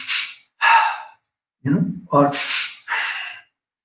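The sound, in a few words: imitation of a child's sobbing breathing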